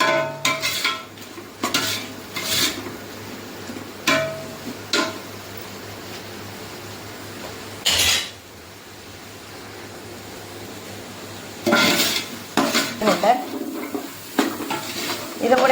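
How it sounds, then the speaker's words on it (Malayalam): Vegetable kurma stirred in a cooking pan, with a spoon scraping and clinking against the metal in irregular bursts over a soft, continuous sizzle from the pan. "നന്നായിട്ട് നമുക്ക് ഒന്ന് ഇളക്കി യോജിപ്പിച്ച് എടുക്കാം"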